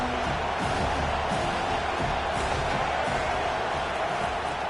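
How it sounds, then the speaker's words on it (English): Stadium crowd in College Football 25 video game, a steady, dense roar of many voices holding at an even level throughout, with no clear individual words. "This crowd knows when to bring it."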